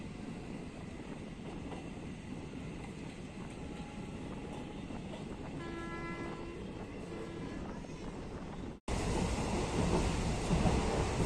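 A passenger train on its inaugural run from Mailani to Shahgarh rumbles steadily, heard from inside an empty last coach, with a constant low roar and faint clatter that swells louder near the end.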